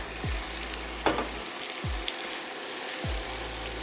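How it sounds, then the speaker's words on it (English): Shrimp hitting a hot pan for blackened shrimp scampi set off a soft, steady sizzle, punctuated by a few low thumps and a brief clatter, quiet and close, with no talking. "we're gonna dump in our shrimp in each side about 30 seconds"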